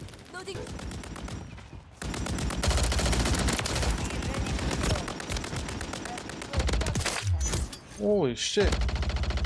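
Dense, loud automatic gunfire in a shooter video game with an SMG class, sustained bursts crackling almost without pause, while a player speaks briefly over the shots.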